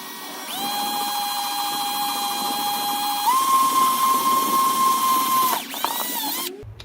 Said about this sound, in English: hand drill in the vise, like so